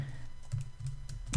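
Quick, light keystrokes on a computer keyboard, a short burst of clicks typed close up, with no talking.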